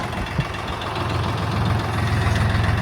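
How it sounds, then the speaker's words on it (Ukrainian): A tractor engine idles steadily with the power take-off shaft engaged to drive a field sprayer for wheat, a continuous loud low rumble with a faint rhythmic knock. "Тепер вмикаємо вал відбору потужності."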